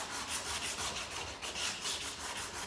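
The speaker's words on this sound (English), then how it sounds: "take the finer sandpaper, put it on my block again, and just sand a little bit more there" Fine sandpaper wrapped on a block rubs back and forth across a wooden chopping board, making a steady, rhythmic rasping close by, with no voices.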